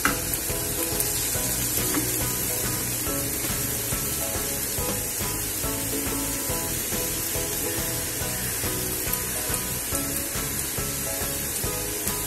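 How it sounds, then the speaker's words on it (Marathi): Grated pumpkin with jaggery sizzles steadily in a pan as it is stir-fried, a dense continuous frying hiss with faint scraping of the spatula, close and alone. "हा किस थोडासा परतून घेऊ 2 मिनिटं।"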